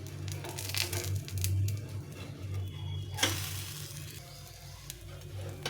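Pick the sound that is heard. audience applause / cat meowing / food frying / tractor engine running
food frying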